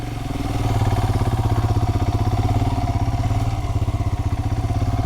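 Royal Enfield Himalayan motorcycle engine running steadily with a pillion on a hill road at Yercaud, a loud, close, rhythmic single-cylinder thump that holds an even pulse throughout.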